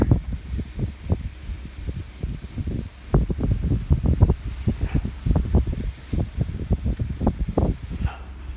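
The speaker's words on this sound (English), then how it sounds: "Oh, that wind's cold." Cold wind blows outdoors near a house and pear tree, buffeting the microphone with loud, rumbling low gusts that pulse irregularly throughout, with faint rustling behind them.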